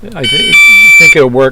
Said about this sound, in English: Sorry about that. That's my alarm.